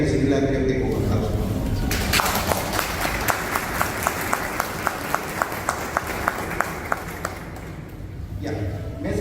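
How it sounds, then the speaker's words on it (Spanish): An audience at a philosophy café gathering applauds a speaker as she is welcomed, a dense wash of clapping with a brief burst of regular sharper claps in the middle, fading near the end. "También habría que recibirla, creo que con aplausos."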